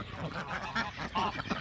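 Several Pekin ducks quack in a busy, overlapping chorus on a farm, close by and fairly loud, with no talking.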